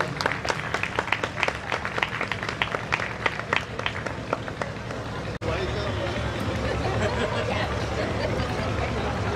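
Scattered clapping from guests at a 25th wedding anniversary celebration, a run of sharp claps over chatter that thins out, followed by a steady murmur of crowd talk and background noise.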